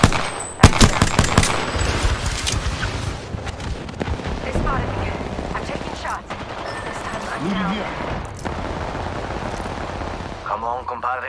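Rapid gunfire bursts from the Apex Legends battle royale game, Season 9, crackling loudly through a dense mix of in-game effects, with sharp shot transients early on and voices talking over it.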